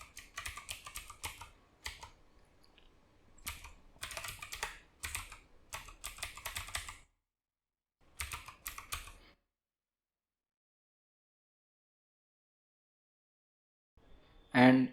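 Computer keyboard keys clatter in quick, irregular bursts while a URL is typed into a router dashboard, with pauses between runs of keystrokes and a brief louder noise right at the end.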